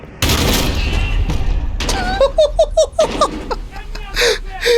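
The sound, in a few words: shotgun blast in the video game Call of Duty: Modern Warfare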